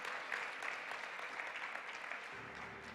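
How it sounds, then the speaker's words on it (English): Audience applause at a national sustainable solutions forum in Malaysia, a steady, dense clapping from a large crowd that holds at an even level and thins slightly toward the end. "Let's give them a round of applause,"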